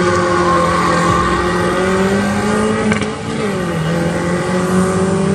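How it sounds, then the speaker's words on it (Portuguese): Fiat 147 drag car fitted with a Tempra Turbo engine and gearbox, revving hard with a loud, sustained engine roar close by, pitch rising and dipping briefly near the middle, with no speech. "Mostra o pipoco pra nós."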